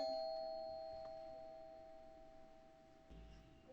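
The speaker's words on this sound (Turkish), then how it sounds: "Zil çalıyor." A doorbell rings once with a clear two-tone chime, its sustained tone slowly fading in a quiet room, followed by a faint low thump.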